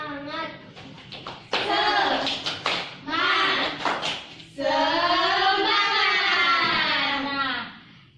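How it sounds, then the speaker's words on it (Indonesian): Children in a classroom perform a rhythmic clapping chant, their voices loud and sung in patterned phrases with short bursts of sharp, quick claps between them. "kita tepuk semangat dulu ya, biar kita semangat dalam belajar"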